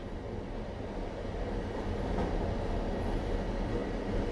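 A passenger train running on rails from Poland into Germany toward Berlin Central gives a steady, continuous low rumble and rolling rail noise throughout, with no voices.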